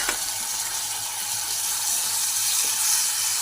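Water splashed into spice masala frying in oil in a pan: a loud, close, continuous sizzle and hiss that stays steady and bright with steam throughout.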